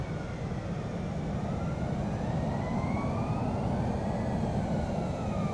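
Loud, steady roar of an F-18 jet engine in Microsoft Flight Simulator, with rising and falling whine tones layered over a dense, constant rumble, heard alone without talk.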